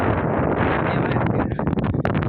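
Strong wind gusts across a hilltop above Bangalore, a loud, continuous roar buffeting the microphone with rustling bursts and no speech.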